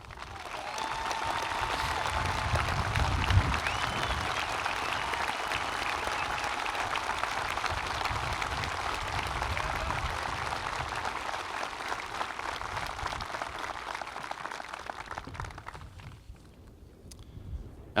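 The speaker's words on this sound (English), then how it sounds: "as we give you all a round of applause" Sustained audience applause at a high school graduation ceremony, honouring military service members who stand; dense, steady clapping from a large crowd that runs for most of the stretch and thins near the end.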